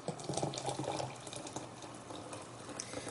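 Cold filtered water pours into a French press of coffee grounds, a close, steady splashing gurgle that is strongest at first and then settles into a softer trickle.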